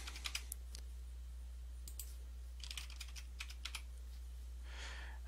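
Computer keyboard being typed on to enter a password: a few quick clusters of soft key clicks, faint and close, over a steady low hum, with no speech.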